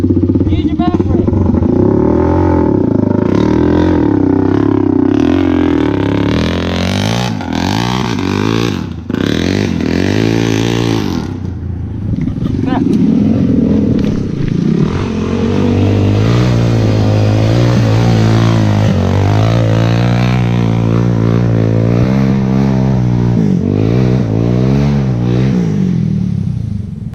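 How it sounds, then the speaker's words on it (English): Several dirt bikes labor up a loose dirt hill, engines revving and straining loudly up close with rising and falling pitch, while people talk and call out over the noise. "We were a little worried about the dirt bikes making it up"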